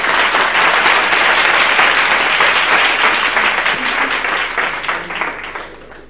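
Applause from an audience at a formal evening function welcoming guests, dense sustained clapping that fills the room and slowly fades toward the end.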